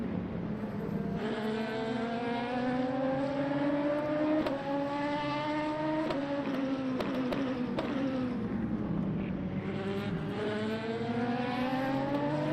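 LMP3 prototype race cars in the sim racing game Le Mans Ultimate accelerate through the gears at a Spanish sunset event with heavy traffic, engine notes rising and dropping in repeated sweeps, steady and close with no talk.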